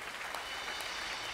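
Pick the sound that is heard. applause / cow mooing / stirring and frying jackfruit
applause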